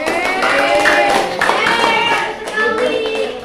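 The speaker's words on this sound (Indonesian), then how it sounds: "Ya, tepuk tangan buat kelompok 1." Students in a classroom clap for a presenting group, a close, lively burst of many hands with bright, sharp claps, some children's voices mixed in.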